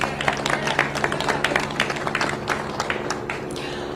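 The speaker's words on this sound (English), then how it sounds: "a big round of applause" A crowd at an officials' news briefing after a mass shooting in Monterey Park claps in a brisk, steady burst of applause lasting several seconds, moderately loud and continuous.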